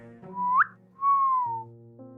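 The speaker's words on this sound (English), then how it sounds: "Biasha whistled." A character whistles in the Tiny Bunny visual novel game, two short clear whistles, the first rising sharply and the second falling, with a soft musical background underneath.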